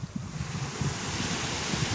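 Small ocean waves wash onto a rocky beach, a continuous broad rushing surf mixed with wind noise on the microphone, fairly close and steady, with no voices.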